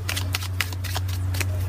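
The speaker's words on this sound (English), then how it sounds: "just a few more shuffles" Tarot cards riffled and shuffled by hand in a quick run of soft papery flicks and snaps, close and fairly quiet over a steady low electrical hum.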